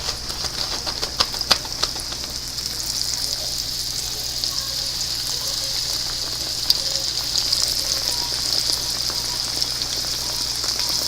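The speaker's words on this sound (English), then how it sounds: "I'm going to gently drop the fish in the oil, like so" Catfish fries in hot oil with a steady, bright crackling sizzle like rain on a surface, close and continuous, with a little quiet talk in the background.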